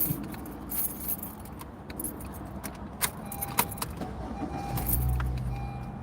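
A set of keys jangles and clinks close by in bursts, with sharp metallic rattles over a low car-interior rumble, ending as an engine starts.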